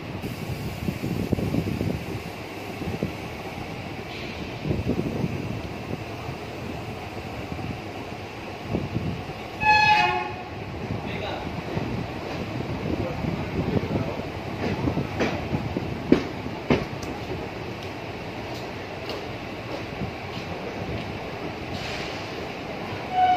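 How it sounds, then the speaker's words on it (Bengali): A Kolkata to Digha special train rolls into Andul station with steady rumbling and rattling of the carriages, and a short squeal near the ten-second mark. "অবশেষে ট্রেন আমাদের আন্দুল স্টেশনে ঢুকছে।"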